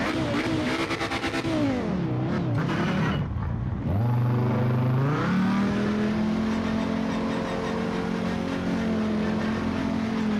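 A race car engine at Monza in Project Motor Racing howls loudly, revving up and down through gear changes, then holds a steady high drone.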